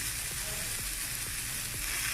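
Peas and green chilies fry in a pan with a steady close sizzle, broken by a few soft stirring scrapes.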